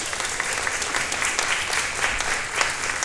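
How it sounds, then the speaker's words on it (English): Applause for an award recipient at an annual cocktail benefit, steady clapping from a sizable audience, even and continuous across the moment. "a round of applause as she comes to accept her award"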